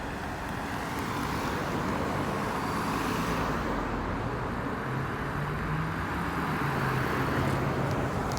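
Steady roar of heavy road traffic on a busy street at Front St., a continuous wash of engines and tyres with low rumbling tones from passing vehicles, close and unbroken throughout.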